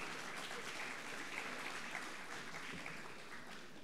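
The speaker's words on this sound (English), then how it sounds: "Let's have a huge round of applause for our talented dancers." Applause for dancers at a school graduation ceremony, a steady wash of clapping held at an even level for about four seconds, fairly quiet and heard from a distance in a large hall.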